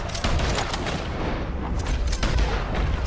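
Rapid gunshots in the Red Dead Redemption 2 video game, aimed as headshots at distant targets, a loud continuous barrage of cracking reports and booms with no talk.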